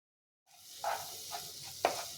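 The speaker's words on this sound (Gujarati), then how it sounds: "બધા જ મસાલાને આપણે અહીંયા સરસ રીતે મિક્સ કરી અને સાતરી લઈશું" Oil sizzles quietly in a pan as spices sauté for a soya chunk curry, after a moment of silence, with a few soft stirring scrapes breaking through the steady hiss.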